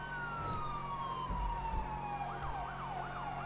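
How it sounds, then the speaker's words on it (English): Wailing emergency sirens from fire trucks in a Grand Theft Auto-style game set in Rockford Hills, a long falling tone joined by a rapid yelp cycle, loud and steady over engine rumble with no talk. "I can't hear myself think over those fire truck sirens."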